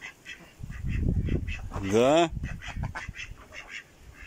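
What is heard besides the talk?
domestic ducks quacking on a farm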